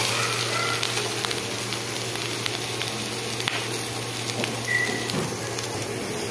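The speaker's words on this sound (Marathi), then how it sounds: "आता टाकायची टोमॅटोची पेस्ट। हे बघा, मी टोमॅटोची पेस्ट टाकलेली आहे। आता याला छान भाजून घ्यायचं।" Onion and tomato paste frying in a pan, a steady, dense sizzle that holds evenly throughout with faint crackles, close and fairly loud, no voices.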